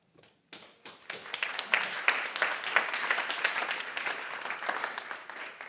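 An audience claps at a festival after a video is shown, a dense, steady wash of many hands starting after a brief pause and sustained at moderate loudness throughout.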